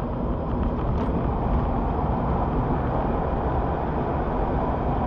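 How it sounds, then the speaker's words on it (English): Wind roars through an open car window while driving, a continuous dense rushing noise, loud and steady throughout, picked up by a Kaiser Baas R10 dash cam. "I'm just going to drop one of the car windows down just so you get a bit of wind noise in"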